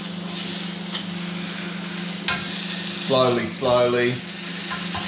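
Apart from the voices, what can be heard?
marinated meat frying and being turned in a pan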